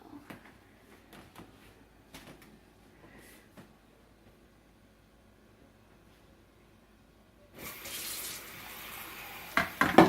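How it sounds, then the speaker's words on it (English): Water is poured from a measuring cup into a bowl of brownie mix: after quiet kitchen taps and clinks, a steady soft trickling splash rises for a couple of seconds, close by. "Then we need to add 1/3 cup of water"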